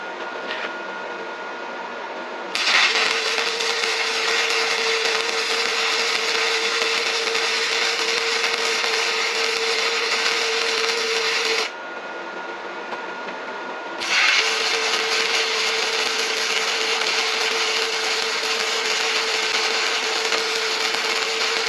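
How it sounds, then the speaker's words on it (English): A Sefaspe MIG135E welder running a weld bead on metal, giving a steady, loud crackling buzz that holds for several seconds, stops briefly, then starts again. "I want to see how it welds when I want to weld something to it"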